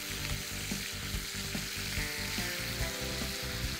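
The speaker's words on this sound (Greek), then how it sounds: "Γυρνάμε το κρέας στο τηγάνι." Beef pieces turned in a hot pan with coarsely chopped onion crackle in a loud, continuous close sizzle, with faint scraping as the meat is moved.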